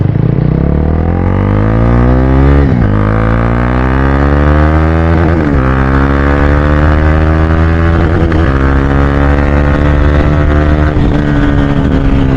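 A KTM Duke 390 BS3 motorcycle being ridden, its engine loud and close as it climbs repeatedly in pitch and drops sharply at each of four gear shifts, with no talking.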